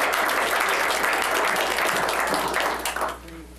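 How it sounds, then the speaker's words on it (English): An audience at a Royal Oak city commission meeting applauds a town board, producing dense, fairly loud clapping for about three seconds that tapers off abruptly, leaving a low hum beneath. "let's give a round of applause."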